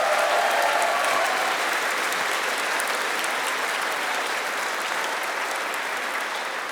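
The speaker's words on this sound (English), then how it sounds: "Can we give Jamie a massive round of applause?" A concert audience at a Leeds musical theatre choir event gives a massive round of applause, a steady wash of many hands clapping at moderate level that gradually eases off without any talk.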